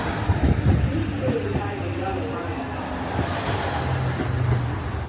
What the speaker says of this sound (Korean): 열차가 들어오고 있습니다